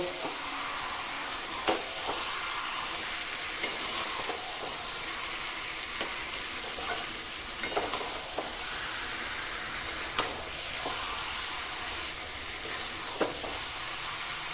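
Mutton for curry sautéing in a pan, a steady broadband sizzle with sharp scrapes and clinks of a spatula stirring every second or two, close and continuous with no talking.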